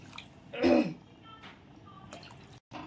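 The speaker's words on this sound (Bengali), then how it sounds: "এখন জল দিয়ে দিচ্ছি।" Water is poured into a pan of spiced masala for an egg and soybean biryani, a short splashing gush up close followed by faint dripping and quiet kitchen sounds.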